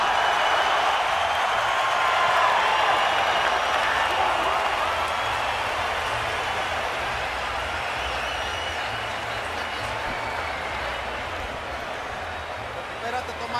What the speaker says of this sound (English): Most combative round of the fight so far, and the crowd will respond.